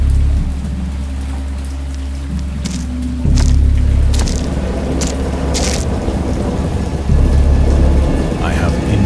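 Heavy rain pours steadily while several deep thunder rumbles roll in, loud and close, over a dense storm backdrop with no voices.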